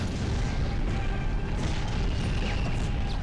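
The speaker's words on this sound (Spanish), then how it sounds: "Vamos a ver si explota todo" Heavy booming blasts from the Medal of Honor Underground game fill the scene as a dense, loud, sustained roar of explosions and crashing debris, with no talk.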